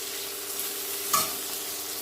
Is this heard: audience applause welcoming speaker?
no